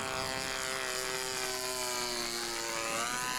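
A small propeller airplane makes a close-in fast pass down a runway, its engine drone steady and loud throughout with a slight pitch shift as it goes by.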